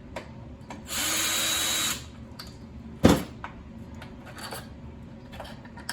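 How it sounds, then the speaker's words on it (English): A small power drill removing screws whirs in one steady burst of under a second, then stops; a sharp clunk follows, with faint handling noise around it. "So I'm just gonna use my little drill here."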